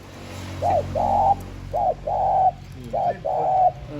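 A spotted dove used as a decoy coos in three short phrases, each a quick note followed by a longer mellow coo, clear and close against faint background hum.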